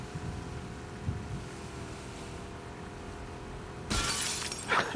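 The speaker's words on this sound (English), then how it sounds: "Definitely break through the other glass." A single sharp burst of breaking glass from The Last of Us video game cuts in near the end, preceded by a low, steady ambient hum and followed by a brief scatter of debris.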